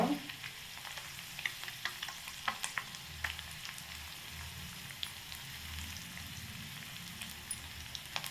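Tomatoes fry in a pan for an egg pouch dish, giving a continuous hissing sizzle with frequent small crackles and occasional stirring scrapes, close and moderately loud.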